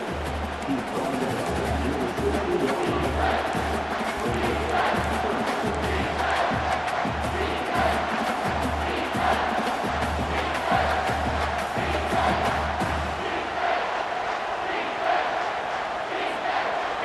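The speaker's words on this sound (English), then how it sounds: "Third down and the crowd really getting into it." Stadium crowd in EA Sports College Football 25 roaring and cheering on third down, a steady dense wall of voices sustained throughout, loud and enveloping, with a pulsing low chant or drum underneath.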